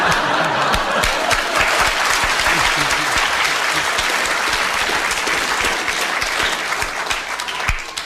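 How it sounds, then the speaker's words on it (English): Studio audience applause on the BBC Radio 4 comedy panel game Just a Minute, a loud, dense and sustained round of clapping that carries on evenly for the whole stretch with little else heard. "You have received your round of applause."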